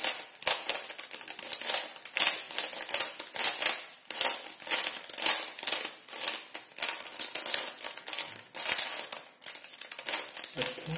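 Rapid plastic clicking and clacking, dense and continuous at close range, with brief pauses, as a 3x3 Rubik's cube is twisted quickly over and over.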